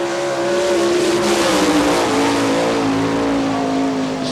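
A sprint car lapping a dirt oval on a complete qualifying run, part of an All Star Circuit of Champions Ohio Speedweek race at Hartford, Ohio: a loud, steady, high-revving engine drone that holds for the whole stretch with slight pitch sweeps.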